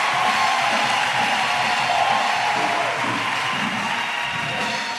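A church congregation fills the room with loud, continuous, dense applause and cheering, a steady wash of clapping and voices for the whole stretch with no break.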